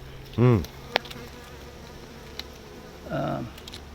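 Honey bees on a hive frame, two short close buzzes of a bee flying past with a quiet hum between them, plus faint clicks.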